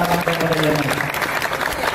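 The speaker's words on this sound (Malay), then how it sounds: "Jadi bagi tepukan sekali lagi bagi kakak-kakak kepada UMS." Audience applause at a community service program at SMK Inanam school in Inanam, a dense burst of clapping from a crowd, loud and continuous, with voices mixed in beneath.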